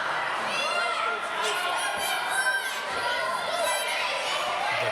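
A crowd of kids at a pro wrestling show murmurs and jeers in steady, dense chatter, with scattered shouts rising now and then across the whole stretch.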